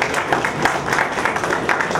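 An audience at a public workshop claps steadily in a dense, continuous patter of applause with no clear voices standing out.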